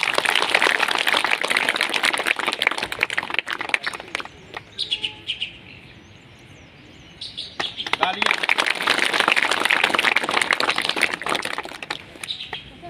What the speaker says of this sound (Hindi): आपको ताली बजाएंगे